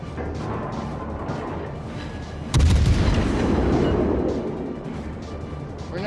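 Naval guns on a cruiser firing in World of Warships, a heavy booming salvo that hits at once and rumbles away slowly over a constant background of engine and sea noise, with no voices.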